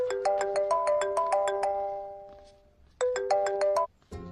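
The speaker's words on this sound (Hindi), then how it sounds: "आपको किसी का फोन आ रहा है।" Mobile phone ringtone plays a bright, bell-like melodic phrase that repeats after a short pause, loud and close, ending with a brief cut.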